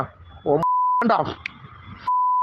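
Censor beeps cut over a recorded voice in a phone-style audio recording: two steady, loud single-pitch tones, each about half a second long, with speech heard between them.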